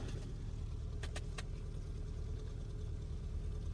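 A car engine idles with an electronic auto choke switched on, a low, steady hum holding even throughout, quiet and close, with a few brief clicks about a second in.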